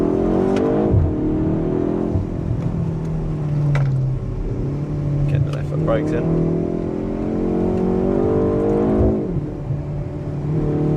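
BMW engine heard from inside the cabin while being driven hard, loud steady revving with rising and falling pitch through gear changes, under a man's speech.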